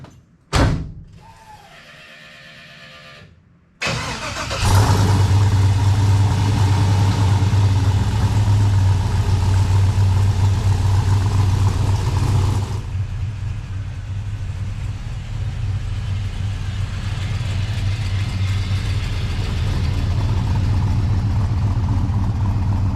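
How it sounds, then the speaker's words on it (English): An LS-swapped 1970 Pontiac GTO fires up after a faint click and short cranking, then settles into a loud, steady, deep idle that continues to the end. "I think I'm going to fire it up, take it for a little spin"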